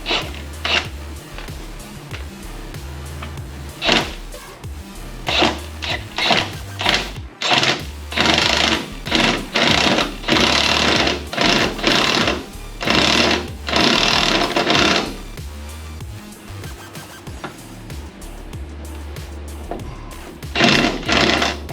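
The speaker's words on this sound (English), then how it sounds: "Now I am trying to get these brackets tightened up for our" A power tool buzzes in repeated bursts, some short and some held for several seconds, tightening step brackets on an OBS GM truck, loud and close.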